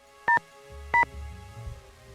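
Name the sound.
telephone dialing, Nancy Drew video game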